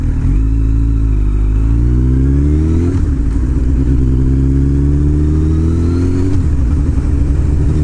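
A voice imitates a Triumph motorcycle revving hard and pulling away, a loud continuous engine-like drone that climbs in pitch through several gear-change surges.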